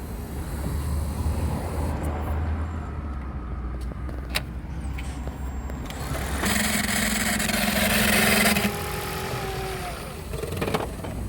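A car with a faulty electric throttle actuator cranks and starts, then settles into a steady idle with a whining hum. Close and continuous, with a few clicks and clunks.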